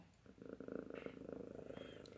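A formerly feral cat, now living indoors, purrs close and softly in a steady rhythmic rumble that pulses through the whole stretch, with no voices.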